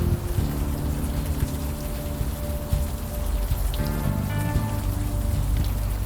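Steady rain pours in the video game Unavowed, a dense continuous hiss of drops on hard surfaces, with faint tonal music underneath and no talking.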